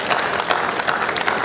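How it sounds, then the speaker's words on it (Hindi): An audience at a live comedy performance applauds steadily, a dense wash of many hands clapping close and loud throughout the short moment. "गर एक बार जोरदार तालियां मिले"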